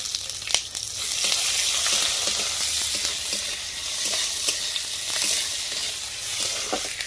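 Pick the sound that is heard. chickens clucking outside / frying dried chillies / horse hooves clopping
frying dried chillies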